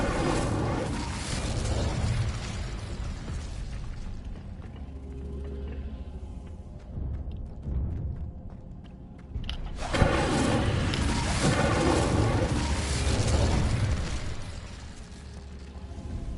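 An Incendio fire spell in a video game sounds as a dense, roaring whoosh of flame, dipping briefly, then a sharp burst and another sustained fiery rush.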